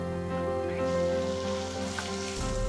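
Tomatoes hit onions frying in a pan, a steady close sizzle and crackle running throughout under a low hum, swelling slightly midway.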